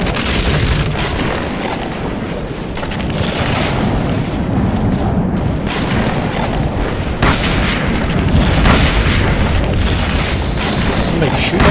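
Gunfire in Call of Cthulhu: Dark Corners of the Earth on breaking ice, heard as a loud, continuous wash of booming blasts and rumbling bursts with no clear pauses.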